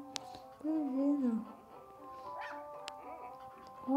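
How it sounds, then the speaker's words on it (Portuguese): A stray dog met outdoors gives short whimpering yips and whines, near and fairly soft, with people talking quietly around it. "Eduardo, um cachorro."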